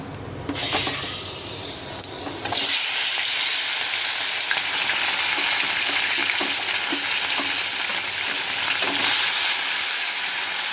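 Fish pieces fry in hot oil in a pan, a loud, continuous close sizzle with faint clicks of stirring that runs through the whole stretch, with no talking.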